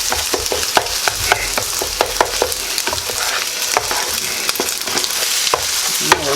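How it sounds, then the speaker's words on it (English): Cooked eggs are chopped and broken up with a spatula in a frying pan for chicken fried rice, rapid repeated scraping taps over a constant close sizzle, with no talking. "now that we got the eggs done, we're going to get them chopped up"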